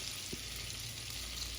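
Butter and flour sizzle and fry softly in a pot while a roux cooks, a faint, even crackle with one small stirring knock.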